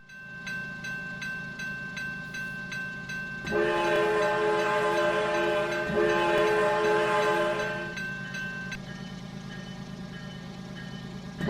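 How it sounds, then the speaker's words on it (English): A CSX freight train horn sounds at night in a long, loud blast that swells midway, then fades, with steady rumbling rail noise and the clatter of wagons underneath throughout. "I heard a train horn in the distance right as we were about to leave"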